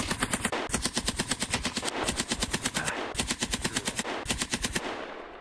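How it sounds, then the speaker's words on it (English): Video game machine gun laying down suppressive fire in sustained rapid bursts with brief pauses between, loud and close, with no voices. "Raccoon, lay down suppressive fire for the other squad."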